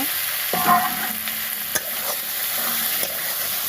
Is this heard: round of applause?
no